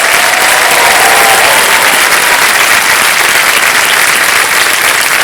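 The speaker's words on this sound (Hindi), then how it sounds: "ताली बजती रहे इनके लिए" A studio audience on the Kaun Banega Crorepati quiz show fills the room with loud, sustained applause. The dense clapping runs steadily through the whole stretch and carries no break or speech.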